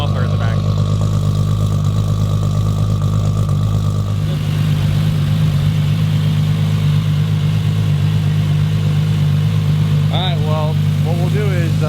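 Toyota Supra engine idling through a straight 4-inch exhaust with a muffler at the back, a loud, steady low drone with a constant rumble throughout, heard close with people talking over it.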